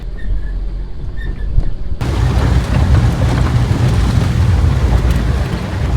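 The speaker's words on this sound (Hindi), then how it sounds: "It's raining heavily." Heavy rain pours down in a dense, continuous roar that suddenly swells louder, with low rumbling underneath and no voices.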